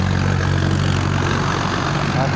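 An old 855 tractor idles with a steady low diesel throb and rumble, continuous and close, while a voice talks over it.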